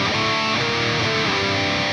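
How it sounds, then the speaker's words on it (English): Heavy distorted electric guitar riff played with inverted power chords, dense and loud throughout with chord changes roughly every half second and no voices. "Changing that to inverted power chords will make it sound a bit heavier."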